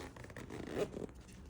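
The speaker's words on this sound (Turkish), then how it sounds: "Fermuarımızı şöyle çekelim." A zipper on a freshly sewn skirt is pulled closed in one quick, faint ripping zip lasting about a second, heard up close with no talk.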